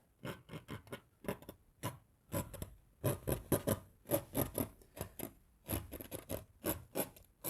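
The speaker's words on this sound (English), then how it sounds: "Just scraping in the paint." Oil paint scraped onto canvas during a winter mountain landscape painting in a Bob Ross style: close, quiet, rapid rasping strokes in uneven bursts, each a short dry scratch, with no talk.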